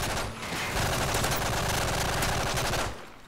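Hip-fired automatic gunfire in a Call of Duty: Modern Warfare 3 multiplayer match crackles in one continuous rapid burst of about two and a half seconds, moderately loud, then cuts off.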